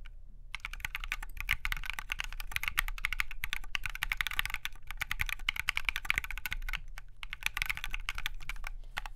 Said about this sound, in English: and then we just begin to type